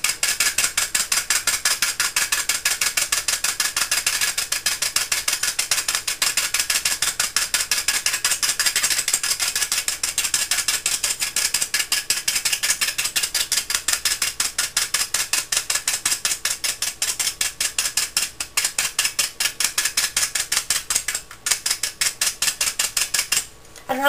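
Rapid, dense metallic pricking as holes are poked into hookah foil, a continuous fast ticking close to the mic with brief pauses near the end.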